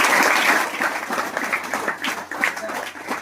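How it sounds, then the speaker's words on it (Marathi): A school audience breaks into steady applause at a high school lecture, dense clapping loud at first and then easing slightly while continuing through the whole stretch. "टाळ्या वाजवा."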